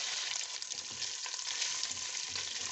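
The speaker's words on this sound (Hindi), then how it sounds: "हम इसमें ये मटन सारा फ्राई करेंगे।" Mutton pieces frying in hot oil give a steady, dense sizzle with a fine crackle throughout, close and even, with no voices.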